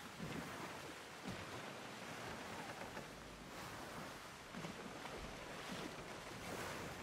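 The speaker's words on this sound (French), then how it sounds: "Nos voiles ne vont pas résister à ce vent." Wind and ocean waves at sea in the pirate video game Skull and Bones, a continuous broad rushing roar with rolling surges of surf and no speech.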